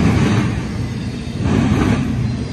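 A BNSF intermodal container freight train climbing Cajon Pass rumbles steadily at a moderate distance, with a dense low roar and faint rolling clatter from the passing cars.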